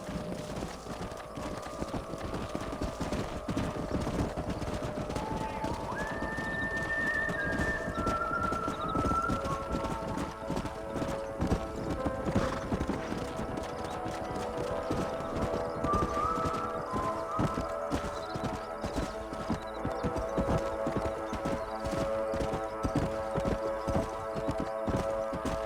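Steady clip-clop of trotting horses in Red Dead Redemption throughout, with bird-like coos and whistles drifting over a dense ambient bed.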